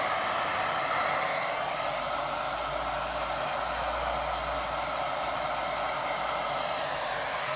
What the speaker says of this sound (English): try and blow it in the right direction with full dryer